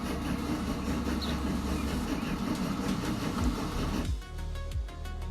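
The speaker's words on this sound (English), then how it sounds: "It's a brand new train." A brand-new but already rusting train runs through the Transport Fever 2 game, a steady rumbling rail drone with clattering that gives way to a quieter idling tone near the end.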